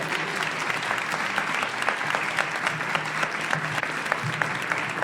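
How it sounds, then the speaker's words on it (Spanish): An audience claps for a minister at a dialogue panel, a continuous, moderately loud round of applause with scattered distinct claps throughout and no voices on top. "Un aplauso, por favor,"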